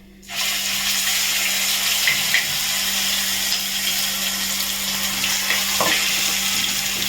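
Asafoetida, cumin and a chili, garlic and onion paste hitting hot oil in a pan, a loud steady hiss and crackle that starts abruptly and sizzles on without pause.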